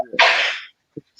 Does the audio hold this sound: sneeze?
yes